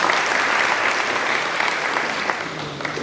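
Audience applause at a university celebration event, a dense continuous crowd clap filling the room, loud and steady throughout and slowly tapering near the end.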